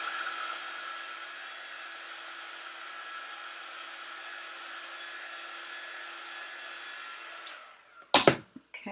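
Hair dryer blowing steadily and close up to dry paint on a handmade pumpkin patch sign, a constant airy whoosh for about seven seconds before it clicks off, followed by a couple of brief handling knocks.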